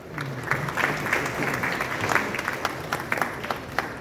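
An audience at a jewellery show ceremony breaks into sustained applause, a dense, even wash of clapping that carries on for several seconds with a few sharper individual claps standing out.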